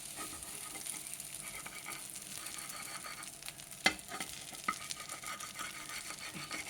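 An egg attu (dosa) fries in a pan on medium flame with a soft, steady sizzle, broken by a few sharp utensil clicks and scrapes against the pan.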